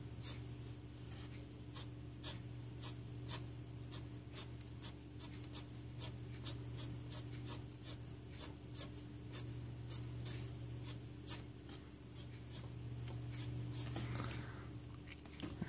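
A pencil sketches a bird on paper, giving a steady run of short, crisp scratchy strokes in a regular rhythm, close and fairly quiet over a faint constant hum, with no talking.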